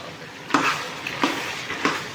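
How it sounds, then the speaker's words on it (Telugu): Native country chicken curry fries in a pan with chili powder while being stirred: steady sizzling with three distinct scraping stirs spaced about two-thirds of a second apart, close and fairly loud, with no talking. "రుచికి సరిపడా కారం కూడా వేసేసుకుని, కారం కూడా పచ్చివాసన రాకుండా కొంచెంసేపు ఫ్రై అవనిద్దాం"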